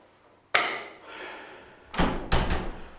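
A door slams shut with one sharp bang, then two quick knocks follow as it is locked, close by in a quiet room in the Arctic Circle.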